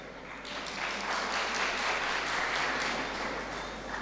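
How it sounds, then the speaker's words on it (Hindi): An audience claps through a religious memorial gathering, a dense, steady patter of many hands that rises quickly and holds at moderate volume with no voices on top. "पर आप ताली बजा रहे हैं"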